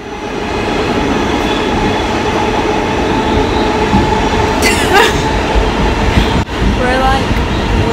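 A subway train in Brooklyn, New York rumbles steadily throughout, with a wheel squeal near the middle and rail clatter, heard close and loud under faint background voices.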